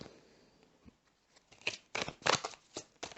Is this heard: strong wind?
no